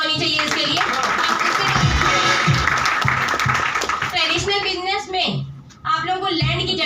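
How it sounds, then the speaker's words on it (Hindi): A crowd at an MLM business plan presentation in Rajnandgaon claps for about five seconds, then breaks off briefly before the clapping resumes, with voices audible underneath. "तो आप बहुत जोरदार तालियां होनी चाहिए इसके लिए।"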